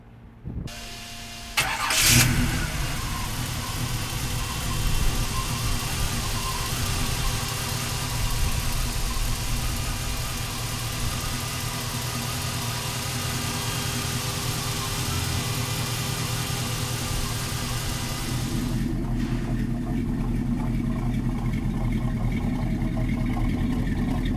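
Engine of a 1936 Ford pickup street rod cranks and catches, then settles into a steady, loud, rumbling idle that continues for over twenty seconds.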